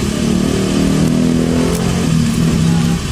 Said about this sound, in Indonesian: Ini motornya udah nyala.